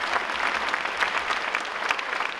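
A crowd applauding steadily, a dense wash of clapping hands that holds at an even level throughout.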